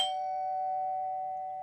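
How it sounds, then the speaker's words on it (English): A single doorbell chime rings in a creepy video game, a clear bell tone that rings on steadily and fades slowly in a quiet room. "As you're sipping your coffee, doorbell rings."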